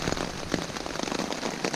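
Steady rain patters on a backpacking shelter in the Catskill mountains, a dense, close hiss with scattered heavier drops landing throughout, no talking.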